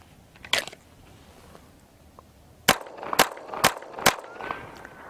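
Gunshots at target shooting practice: a faint shot early on, then four sharp, loud reports in quick succession about half a second apart, with quiet outdoor background between them.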